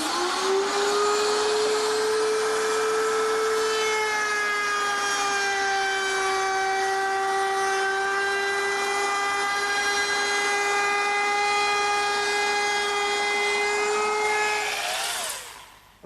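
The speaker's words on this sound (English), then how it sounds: "Now, this router is mounted underneath a router table" A table-mounted router with a 3/8 inch roundover bit whines at a steady high pitch while cutting into wood, running continuously before spinning down at the end.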